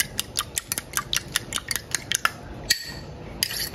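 Two eggs beaten loose in a bowl for a dense moss-pattern pudding: quick, irregular clinking taps of utensil against bowl, close and fairly light, with a brief pause near the end.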